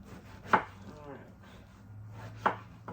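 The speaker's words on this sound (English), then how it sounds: "And I'm going to chop it maybe about 1/2 inch thick. Into pieces." A knife chops through eggplant into half-inch pieces on a board, two sharp distinct cuts about two seconds apart, close and clear with quiet room noise between.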